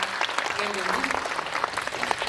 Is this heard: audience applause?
yes